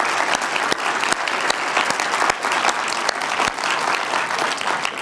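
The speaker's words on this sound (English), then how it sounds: "If we can give a round of applause for the panel" An audience applauds a conference panel at the close of a session, with sustained, fairly loud clapping from many hands and sharp individual claps standing out throughout.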